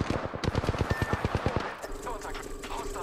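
Rapid automatic gunfire in the video game Apex Legends, a loud burst of evenly spaced shots for over a second, then a denser rumble of combat noise with a steady tone.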